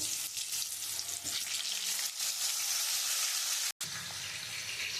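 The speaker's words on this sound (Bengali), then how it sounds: "এবার আলুগুলো আমি একটু ভেজে নেব, একটু লাল লাল করে আমি ভেজে নেব।" Potatoes frying in hot oil with turmeric, a close, steady sizzle that holds evenly with a brief gap near the end.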